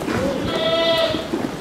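A Sirohi goat on a goat farm gives one drawn-out bleat lasting about a second, close and fairly loud, over a murmur of farm background noise.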